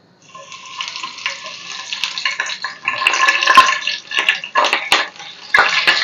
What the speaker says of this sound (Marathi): आता आपण इथे मिरच्या तळून घेणार आहोत.